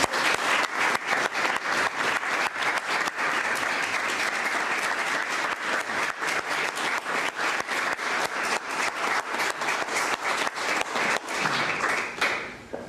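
A large audience at a US Department of State launch event applauds warmly and continuously for about thirteen seconds, a loud, even wash of clapping that thins out near the end.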